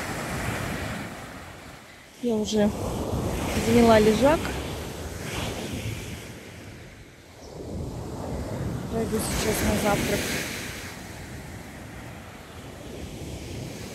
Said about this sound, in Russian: Да, сегодня волнушка большая.